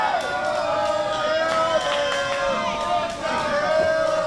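Wrestling crowd at a WWN Proving Ground show chanting for Goldberg, a loud, steady roar of many voices with rhythmic shouts and cheers filling the arena throughout.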